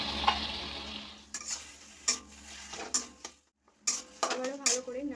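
Taro leaves and chickpeas being stir-fried in a pan, with repeated close scraping strokes of a spatula, light sizzling and metal clinks in an uneven rhythm, a brief pause midway and a voice talking over part of it.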